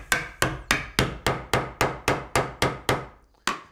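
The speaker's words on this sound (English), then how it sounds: "and I just nudge them in with a hammer." A hammer nudges wooden cabinet pieces together in a steady run of ten sharp, evenly spaced knocks, then one more after a short pause; close and loud.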